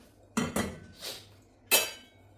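Washed, cut taro pieces dropped into a cooking pot for a Kerala-style chembu curry, producing a few quick clattering knocks and clinks against metal, close and isolated.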